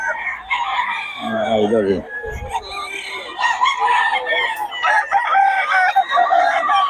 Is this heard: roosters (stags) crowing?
yes